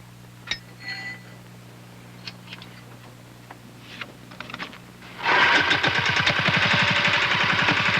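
Engine of a small farm power unit built for peasant farmers starts up abruptly after scattered ticks and clicks, then runs loud and steady with a rapid, rhythmic putter close by, no talk.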